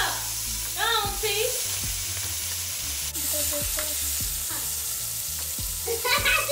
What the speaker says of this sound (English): you want to let them sear for 3 minutes on each side